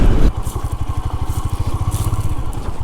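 A motorcycle engine pulses in a steady, close, throbbing rhythm as the bike rides over slippery rocks on a rough trail, after a brief louder crunch at the start.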